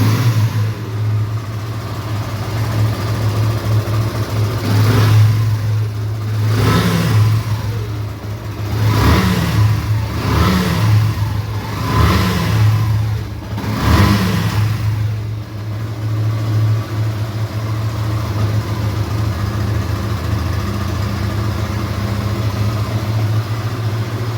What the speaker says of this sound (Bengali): গাড়িটি আপনাদেরকে এখন স্টার্ট দিয়ে ইঞ্জিনের সাউন্ড শোনাবো। সরাসরি ইঞ্জিনের সাউন্ড শুনুন।